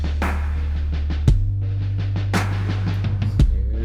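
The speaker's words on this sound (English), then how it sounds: "I played those roots on a synth bass to lay a texture underneath" Synth bass holding sustained low chord roots beneath a steady drum groove, with a punchy hit marking each root change; a dense, continuous instrumental texture with no voices.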